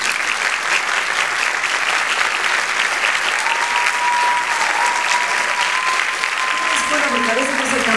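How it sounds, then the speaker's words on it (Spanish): Sustained applause from a film festival audience during a tribute in Monterrey, a dense even wash of clapping that holds steady the whole time, with a faint tone and voices surfacing near the end. "Bueno, un aplauso."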